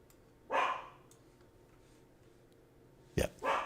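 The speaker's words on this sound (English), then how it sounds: "Dog's barking." A pet dog barks indoors at home, two or three short, fairly loud barks spaced a few seconds apart, with a quiet room tone in between and no talking.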